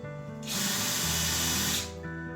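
A power drill boring a pilot hole into a wooden drawer, a steady loud whir with hissy broadband noise that holds for over a second before cutting off, with a faint low hum beneath.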